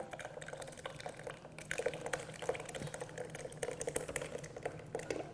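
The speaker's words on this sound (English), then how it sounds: "You just pour the cooled ingredients right inside." Cooled ice cream base being poured into a home ice cream maker, a soft liquid trickle with small splashes and light plastic clicks, fairly quiet and steady without talk.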